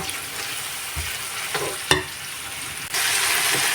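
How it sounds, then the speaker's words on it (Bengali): Spices sautéing in a pan for rohu fish do-peyaja, a soft steady sizzle broken by a few stirring scrapes and knocks, close and alone without talk. "মশলাটা দিয়ে আমি ভালোভাবে কষিয়ে নেব"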